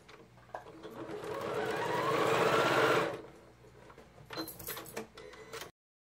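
A sewing machine stitching along a quilted table cloth binding, sped up so its whirring rises into a high, rushing chipmunk-like buzz for a few seconds, followed by quick clicks and rattles.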